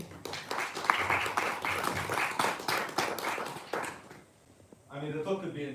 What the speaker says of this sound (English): Let's give a round of applause to our talk.